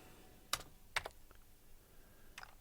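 Computer keyboard typing during a programming session, a few sharp, separate keystrokes spaced apart at close range in an otherwise quiet room.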